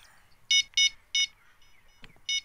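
Repeated electronic beeping alert in the fishing game Fishing Planet: a rhythm of two quick beeps, a third after a pause and another near the end, with bright tonal bursts and a brief faint knock between them, no talk.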